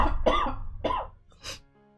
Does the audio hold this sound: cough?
yes